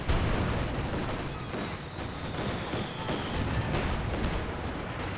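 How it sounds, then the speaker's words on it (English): Maxim machine gun and other weapons firing in rapid bursts during a Company of Heroes match, a dense, loud clatter of gunfire with rumbling booms underneath and no talk. "Maxim firing away, does suppress those squads"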